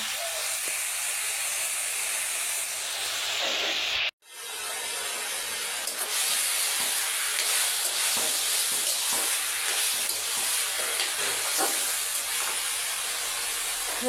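Leafy greens stir-fry in a hot pan, giving a loud, continuous hiss and sizzle with scattered scraping stirs. The sound cuts out sharply for a moment partway through, then resumes just as strong, with no voices.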